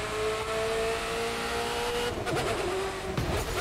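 A Ferrari F40 in The Crew 2 racing game revs hard under full throttle, its engine note rising steadily and loud, with a brief dip and shift midway before climbing again.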